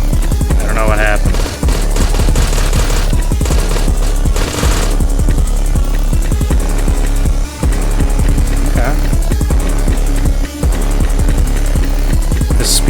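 Machine-gun fire in the Withdrawal boomer shooter video game: a dense, continuous, loud rattling barrage that runs almost without break, with brief dips, under layered game sound.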